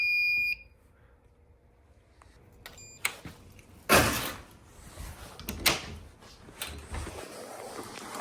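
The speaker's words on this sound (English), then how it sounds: "This room does have a smoke detector." A high electronic smoke detector alarm tone sounds briefly at the start during a garage fire alarm system test, then gives way to door clunks, bumps and shuffling noises in a room.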